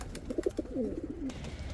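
Pigeons coo softly nearby, a short run of low throaty warbling notes with a few brief clicks, fairly quiet and without talk.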